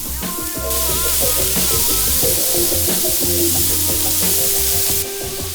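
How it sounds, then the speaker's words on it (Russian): About 600–700 g of chopped onion sizzles steadily in a frying pan for braised lamb shanks in tomato sauce, a loud, continuous crackle with occasional stirring, no voices. "Видите, как быстро жарится лук"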